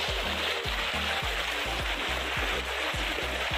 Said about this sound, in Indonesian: Suasana di sungai ini